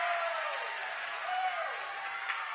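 A home crowd at a high school girls' varsity basketball game cheers a traveling call. The sound is a dense, steady roar of cheers and applause that fills the gym, with a voice rising briefly over it.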